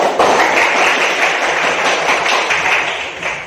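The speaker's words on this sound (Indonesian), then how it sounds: "Tepuk tangan buat kalian." Classroom group applause in a guidance lesson, many hands clapping together in a dense, steady burst that fills the whole stretch, loud and close with no talk over it.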